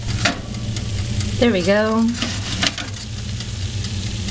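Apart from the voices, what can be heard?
food sizzling while frying in oil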